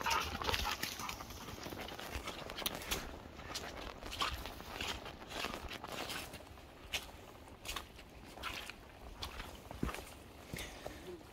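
Dog running through wet woods, a patter of quick paws and brushing through undergrowth, faint and fairly close, with irregular scuffs and rustles continuing for several seconds.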